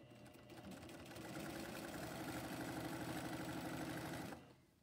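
A sewing machine stitches the shoulder seam of a shirt, running in a quiet, steady, rapid rhythm for about four seconds before stopping.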